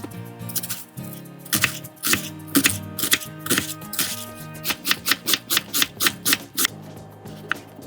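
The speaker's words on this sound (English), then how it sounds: "Dice 1 large yellow onion." A knife dices a large yellow onion on a cutting board in a home kitchen, a run of sharp rapid chopping taps, sparse at first then a fast even rhythm, close and alone.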